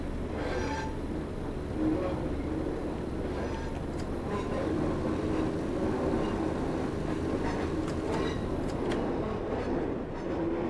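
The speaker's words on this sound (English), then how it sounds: "And now just going to allow the train to coast here." A Class 142 diesel multiple unit rolls along the Leeds to York line via Harrogate in Train Simulator 2018, with a steady rumbling run, rail clatter and a few sharp clicks or squeals over ten seconds.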